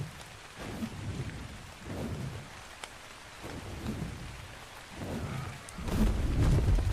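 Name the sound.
rain in the video game ARK: Survival Ascended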